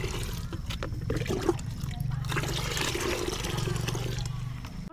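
Onion peel soaked in water is shaken inside a bottle to mix it into a garden fertilizer, giving a continuous churning slosh and gurgle of liquid that stays steady and fairly loud for the whole span.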